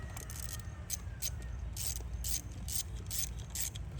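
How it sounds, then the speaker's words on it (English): A hand ratchet tightens spark plugs in the engine of a 2012 Mercedes-Benz C300, giving quick bursts of sharp metallic clicking in short repeated strokes over a low steady hum, close up, with no talking. "you can actually use your ratchet to tighten these up"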